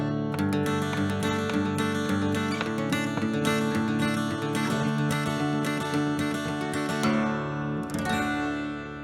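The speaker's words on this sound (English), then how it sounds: "In this lesson we're going to learn a picking pattern that comes in very handy when playing Irish reels or songs in DADGAD" Acoustic guitar in DADGAD tuning plays a brisk Irish reel picking pattern, steady driving rhythm of rapid picked notes and chords, close and clear with no talk, ending on a strummed flourish.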